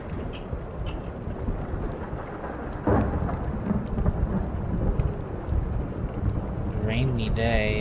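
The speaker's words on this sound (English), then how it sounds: "Rainy day." Rolling thunder and steady rain in the video game Hypnagogia, with a loud thunderclap breaking in partway through over continuous rainfall and rumble, and a voice faintly present near the end.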